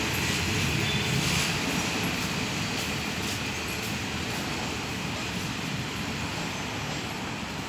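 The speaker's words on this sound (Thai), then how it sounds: "ขณะนี้ขบวนที่ 254 ก็ได้ออกจากสถานีรถไฟ ชุมทางตลิ่งชันเป็นที่เรียบร้อยแล้วนะครับ" Ordinary train No. 254 on the Lang Suan–Thonburi run pulls out of Taling Chan Junction station, giving a steady, loud rumble of rolling railcars with rail noise and faint wheel squeal that stays constant throughout.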